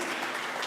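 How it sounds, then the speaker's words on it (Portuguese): Brief burst of congregational applause at a church gathering, dense and continuous clapping from a crowd filling the whole moment without a break. "Aplauda o Senhor pela vida desse casal"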